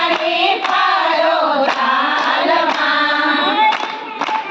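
Hand clapping keeps time during a Shiva bhajan sung by a bhajan group in Surat, sharp periodic claps landing under sustained sung vocals and harmonium-like tones.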